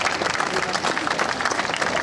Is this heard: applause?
yes